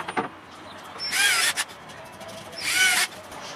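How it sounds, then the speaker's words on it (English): A power drill bores two holes into a rebuilt dual 12-inch subwoofer box, giving two separate whining bursts of about half a second each, close and fairly loud over a quiet background. "Good old drill, drill a couple of holes, not too far apart."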